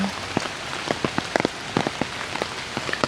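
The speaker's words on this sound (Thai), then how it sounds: "เบิงบรรยากาศฝนตก" Rain falls steadily on a surface outdoors, with scattered close drops tapping irregularly over a soft continuous hiss, and no voices.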